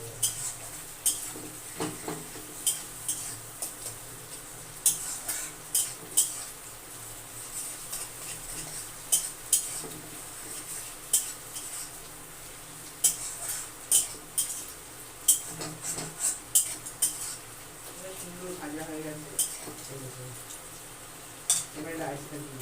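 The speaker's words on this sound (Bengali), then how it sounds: "রাইসটা দিয়ে অল্প অল্প নাড়া দেবো" Rice is tipped into a pan and stirred with a metal utensil, producing repeated close clinks and scrapes at an irregular pace over a soft sizzling bed, with a voice talking in places.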